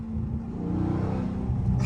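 A Dodge Charger SRT Scat Pack makes a hard pull, its engine giving a loud, sustained revving roar heard from inside the car, with a thick low rumble that keeps building.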